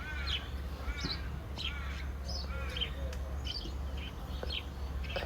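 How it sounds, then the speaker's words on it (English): Several crows caw in short bursts over a few seconds outdoors, mixed with faint chirps from other birds over a steady low hum. "Crows carrying on,"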